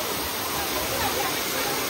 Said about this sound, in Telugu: మనమైతే వాటర్ ఫాల్స్ దగ్గరకు వచ్చేసినాం